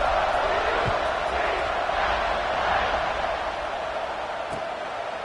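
Sustained roar of a stadium crowd cheering at a football game during a kickoff, a dense, steady wash of voices that eases slightly toward the end.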